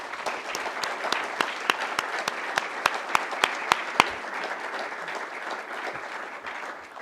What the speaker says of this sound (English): So I'd like to just take a moment to applaud both candidates, Caroline Leavitt and Chris Pappas.